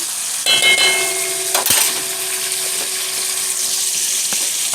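Minced garlic, about a tablespoon, goes into a hot frying pan while cooking rice with beans, producing a steady hiss of frying with a brief clatter as it lands and light stirring scrapes throughout; no one speaks.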